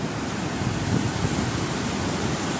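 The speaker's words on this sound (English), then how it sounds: "And these are the killer waves of Parangtritis." Surf breaking at Parangtritis Beach in Indonesia, a steady broadband roar of waves with wind noise across the microphone, continuous and fairly close, with no voices.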